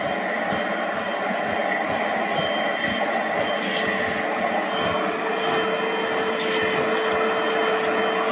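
A Little Green spot cleaner vacuum runs on carpet, a loud steady motor whine with a constant rushing suction drone that holds throughout without pause.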